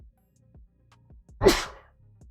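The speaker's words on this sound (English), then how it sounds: "I gotta sneeze." A single sharp sneeze bursts out close and loud in the middle of an otherwise quiet stretch, with faint low clicks and thumps before and after.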